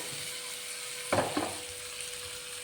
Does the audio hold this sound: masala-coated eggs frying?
yes